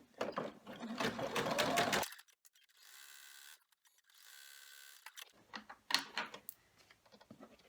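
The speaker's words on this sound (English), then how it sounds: "we need to put the next piece of vinyl on and run the stitch that is going to tack it down" An embroidery machine runs a tack-down stitch on vinyl in the hoop, a rapid mechanical chattering burst followed by quieter whirring stretches and renewed clicking near the end.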